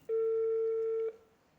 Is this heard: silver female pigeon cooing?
no